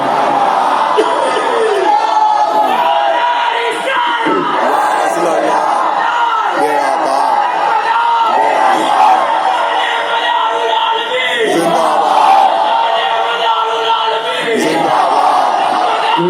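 A large crowd chants slogans in unison at a religious gathering in Kalol, Gujarat, with loud, dense massed voices and shouts sustained without a break throughout.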